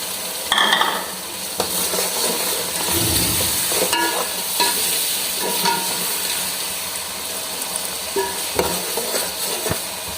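Peas sizzle steadily in a hot pan while a utensil stirs and scrapes against the metal in irregular strokes, close and fairly loud.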